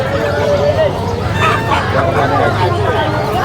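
Hens cluck and squawk amid a noisy crowd at a pet and livestock market in Bocaue, with people talking and bustling close by.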